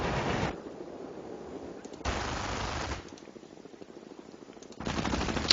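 Machine gun bursts from a real-time strategy game set in World War II style combat, with three loud sustained volleys separated by quieter gaps.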